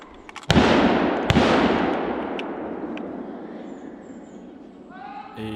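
Two sharp rifle shots crack out during a driven wild boar hunt in the woods, the first loud with a long rolling echo, the second a second later and fainter, both fading into outdoor quiet.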